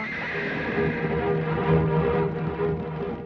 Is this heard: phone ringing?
no